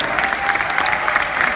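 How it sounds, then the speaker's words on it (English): Conference audience applauding in a large hall, a dense steady wash of clapping that holds evenly at full strength throughout, close and loud, with no voices rising above it. "let's give Scott another round of applause for being here with us today"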